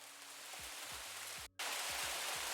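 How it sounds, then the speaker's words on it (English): Steady winter rain hiss, loud and broadband, with low repeating tones from a music sample underneath; the hiss drops out briefly midway then returns. "Also winter rain."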